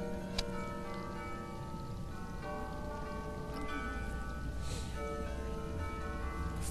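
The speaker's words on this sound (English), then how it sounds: "Funny enough, that bell chime does sound vaguely Jewish." A bell chime in the video game Machinarium rings out over a steady, dense ambient background, with a few soft tonal strikes and no talking.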